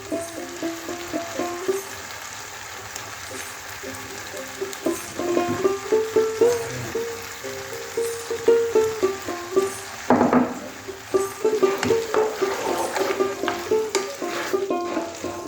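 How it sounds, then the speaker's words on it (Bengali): A spoon stirs chilli chicken sauce with soy and tomato sauce in a hot pan, making repeated scraping strokes in a steady rhythm over a soft sizzle, close up and without talk. "ভালো করে একটু নেড়ে নেব।"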